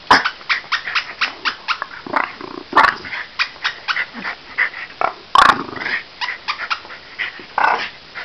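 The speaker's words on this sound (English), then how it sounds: "He doesn't bark. I think he's half Chewbacca" A dog close by lets out a long series of throaty, rumbling growls and moaning whines in rapid, uneven bursts, with no barking.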